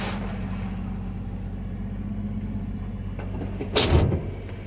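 A warmed-up 1982 GMC square body pickup truck engine idles steadily and close by, with a brief clunk partway through like a door or latch, and no talking.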